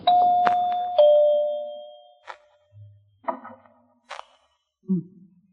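Two-tone doorbell chime in a radio drama, two ringing dings at the start that decay over a couple of seconds, followed by scattered faint knocks and thumps, no speech.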